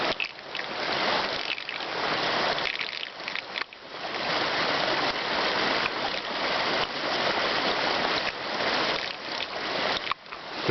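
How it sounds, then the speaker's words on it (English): Flood water from an overflowing pond gets sucked down through an overflow spout, a continuous rushing, gurgling wash that is moderately loud and pulses slightly, with no talking. "You can hear the water being sucked down through there."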